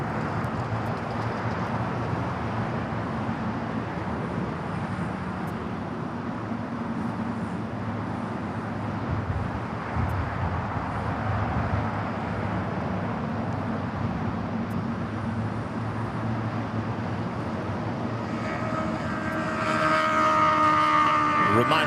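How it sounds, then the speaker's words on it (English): A United Airlines Boeing 787-9 Dreamliner takes off at LAX as a steady, broad jet roar that holds throughout and swells slightly louder near the end. "This is United Airlines 1855 taking off to Newark on the 787-9 Dreamliner"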